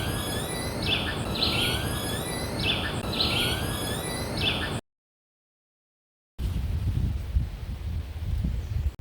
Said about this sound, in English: Amazing, wonderful variety of bird calls in this forest.